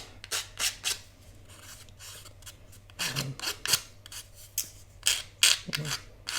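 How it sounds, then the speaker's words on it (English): A nail file rasping against paper craft pieces to sand off nubs, short repeated scratchy strokes in bursts with brief pauses, close and fairly quiet. "I always like to keep a nail file in my tool kit to act as sandpaper."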